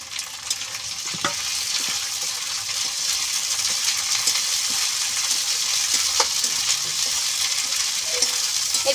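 Ginger and cumin paste frying in oil in a wok for a mutton curry: a loud, continuous sizzle close by, with scattered scraping and clicking from stirring and no talk.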